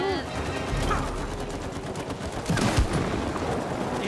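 Rapid gunfire bursts from the co-op video game It Takes Two rattle continuously over dense game music and effects, with a brief louder volley near the end.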